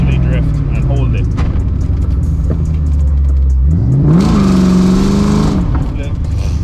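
An Aviator-swapped Ford Mustang drifts through a corner, its engine droning steadily and then revving up sharply into a loud rising wail before easing off.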